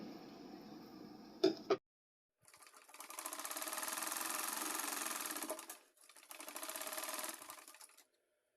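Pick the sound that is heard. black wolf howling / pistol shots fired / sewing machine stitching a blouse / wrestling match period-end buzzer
sewing machine stitching a blouse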